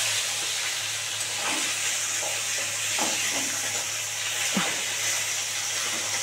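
Koi fish frying in hot oil, a steady close sizzle with occasional louder spits and pops as the pieces cook, no voices.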